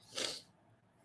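A single sneeze from a football commentator, one short, breathy burst close to the microphone, followed by quiet room hiss.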